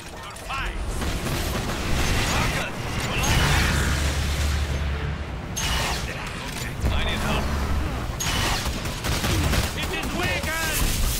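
Dense, continuous gunfire and mechanical clatter from the video game Evolve, rapid bursts layered with game effects, with people talking over it.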